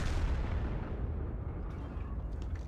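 Tank cannon firing APCR shells in a tank video game, a single deep blast at the start that rolls off into a fading rumble, fairly distant and muffled.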